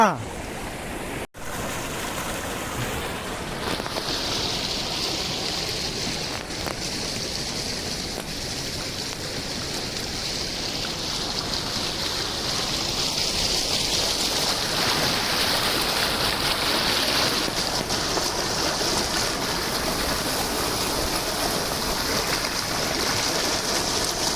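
Steady rushing water flows continuously, a broad constant wash that grows slightly louder midway, with no voices standing out.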